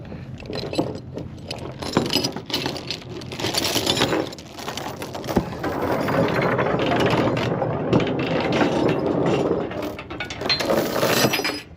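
Equipment trailer tilt bed mechanism operating, a run of ratcheting mechanical clicks and grinding with short pauses, followed by a sustained whirring hum, fairly close.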